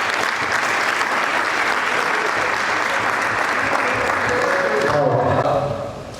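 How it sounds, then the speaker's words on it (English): Sustained, dense applause from a conference audience at a developer festival, steady and loud throughout before tapering off at the end. "Please, a round of applause."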